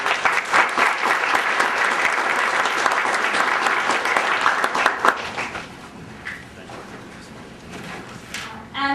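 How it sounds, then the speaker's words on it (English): Audience applauding debate panelists at a broadband policy event, steady dense clapping for about five seconds that thins into scattered claps and fades, with a few last claps at the end. "and a round of applause."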